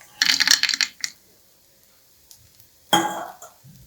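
Raw peanuts and urad dal tipped into a pan of toasted cumin, a loud rattling clatter of dry pieces hitting metal, then a second shorter pour a few seconds later, with faint stirring between.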